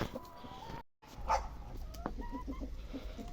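Chickens cluck in a coop, several short soft clucks with a brief high call, heard faint and close in a quiet barn setting with some handling noise.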